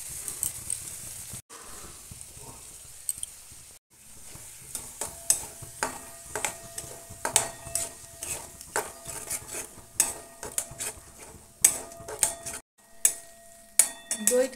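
Beaten sour yogurt is stirred into sizzling Kashmiri alur dom in a pan, giving a steady, close sizzle under repeated rhythmic scrapes of a spoon against the metal, with two brief pauses.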